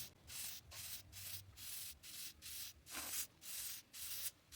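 A soldering iron tip is wiped repeatedly across a wet sponge, about nine soft rhythmic rubbing strokes, quiet and close with no talk.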